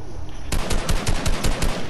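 Rapid automatic gunfire in a video game breaks out after a quiet half second, about ten sharp evenly spaced shots in a loud close burst with no talk.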